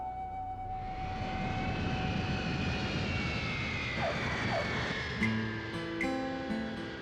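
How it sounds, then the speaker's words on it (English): An airplane touching down in San Jose, Costa Rica: a steady, moderately loud jet engine roar with a whining tone that shifts through the landing, heard from inside or nearby. "The plane touches down in the capital, San Jose."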